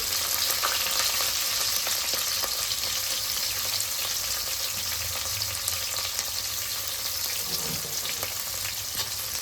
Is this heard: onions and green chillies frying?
yes